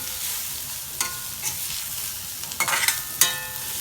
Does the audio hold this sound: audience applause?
no